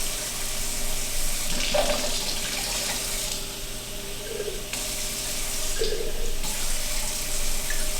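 Hot water runs steadily from a tap into a jar while it is rinsed of leftover marinara sauce, a continuous hissing splash with slight changes in tone as the jar fills.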